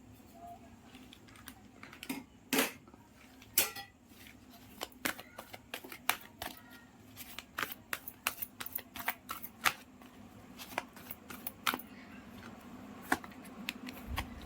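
Tarot cards being shuffled by hand during a candle-lit psychic reading, a long run of quick papery riffles and soft card snaps in an irregular rhythm, close and fairly quiet, with no talking.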